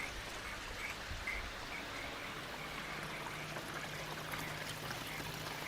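Water trickles and splashes continuously down from a pond filter's spray bar into a fry pond, a soft, steady, close running stream with no talk.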